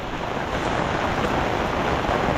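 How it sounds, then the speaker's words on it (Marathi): A tall roadside waterfall in Konkan roars with a dense, steady broadband rush of falling and flowing water, loud and close, with no voices. "वाहता पाण्याचा खळखळाट आणि वरून अखंड कोसळणारा धबधबा त्याचा प्रभाव काय वेगळाच आहे"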